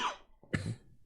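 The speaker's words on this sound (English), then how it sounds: "I've got this winter cough" A man with a winter cough gives a single short, dry cough at close range, preceded by a faint breathy sound, otherwise quiet with no speech.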